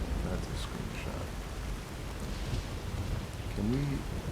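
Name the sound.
rain in video game Fallout New Vegas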